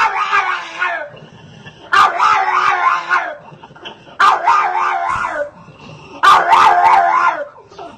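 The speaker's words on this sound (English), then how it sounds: "to say this dog has an unusual bark might be an understatement" A pug mix dog gives an unusual, human-like bark and howl in four loud, drawn-out wailing calls separated by short pauses, close to the listener.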